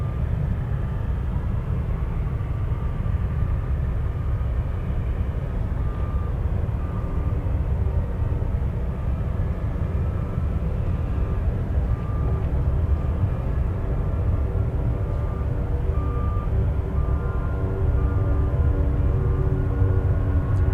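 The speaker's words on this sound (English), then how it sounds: "let's go over to the Alaska 737" Alaska Airlines Boeing 737 airliner in the West Coast Wonders livery, heard as a steady, loud jet roar that holds for the full stretch, with a faint whine riding on top and no talking.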